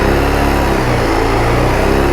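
A Bajaj Pulsar 220F motorcycle engine, ten years old with over 100,000 km, revs near 4000 RPM in a steady, loud, continuous drone with no one speaking.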